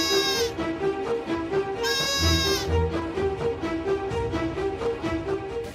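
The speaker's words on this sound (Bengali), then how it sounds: "ছাগল ডাকছে" Goat bleating indoors at a home, several wavering, harmonic bleats repeating through the clip, loud and close with no talk.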